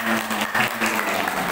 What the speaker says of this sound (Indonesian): Totalitas, tepuk tangan terus.